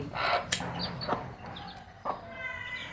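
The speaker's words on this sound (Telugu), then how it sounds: "చూశారు కదా ఫ్రెండ్స్ ఇవి చిక్స్ మంచి క్వాలిటీ చిక్స్" Chickens and chicks at a farm where chicks and eggs are sold, clucking and cheeping close by in a busy overlapping cluster, with short calls and higher peeps layered over a low background.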